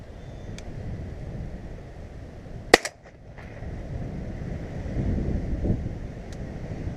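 Shotgun shot fired while pigeon shooting over decoys on drillings, heard as a single sharp outdoor report with a quick echo, surrounded by steady wind noise.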